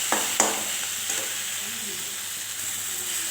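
Onions frying in a pan with turmeric and Kashmiri chili powder, a steady sizzle with a few sharp clinks of a spoon stirring near the start.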